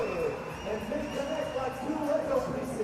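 A basketball crowd at a FIBA 3x3 U23 Nations League finals game cheers and murmurs after a tying shot, a steady wash of voices under a commentator's talk.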